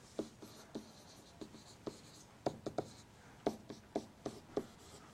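Pen strokes scratch across paper as math is written out, with soft intermittent taps and scrapes in an irregular rhythm, close and quiet, and no speech.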